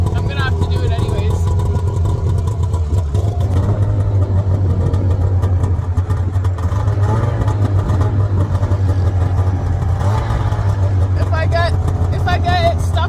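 1993 Arctic Cat 440 Jag snowmobile idling, a loud, steady low engine rumble running throughout with slight unevenness, while a voice talks over it in places.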